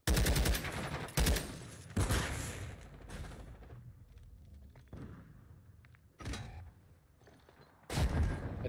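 Sniper fire in a video game battle amid base bombing: loud, sharp broadband bursts recur irregularly at close range, several sharp cracks separated by quieter stretches of rumble and clatter, with no talking.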